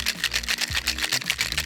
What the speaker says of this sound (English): Give it a brief shake.